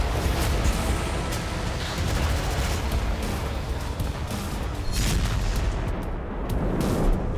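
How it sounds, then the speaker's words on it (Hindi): Loud, dense rumble of explosions and gunfire from the Russia–Ukraine war, a continuous barrage of booms and crackling shots with no pauses and no voices. "ये बारूदी चोट, ये विस्फोट,"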